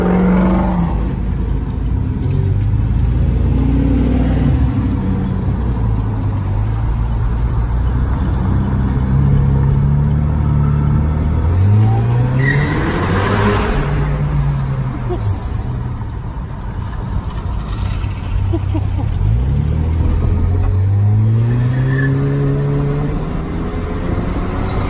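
A tuned 2014 Chevy Malibu 2.0T with an intake, catless downpipe and BNR tune revs repeatedly, its engine note climbing and dropping in loud, close sweeps through several gears, with some talking in the background.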